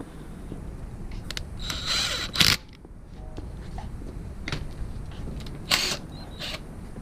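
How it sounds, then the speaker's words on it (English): A ratchet works a 14 mm timing belt tensioner bolt on a neglected Honda, giving a few short bursts of rapid clicking against faint shop background, close and brief. "Alright, we're gonna take that bolt back out. 14 millimeter."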